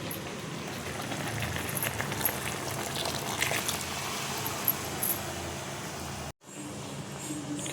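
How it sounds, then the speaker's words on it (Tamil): Water poured over ground coconut masala bubbles and simmers in a pot, a steady close hiss of boiling liquid that cuts off briefly near the end before resuming. "தேவையான அளவு கொஞ்சம் தண்ணி ஊற்றி கொதிக்க விடணும்."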